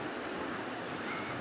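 Rough surf on Indian Rocks Beach with a west wind pushing the waves. A continuous broadband roar of breaking water and wind, faint and steady throughout, with no voices.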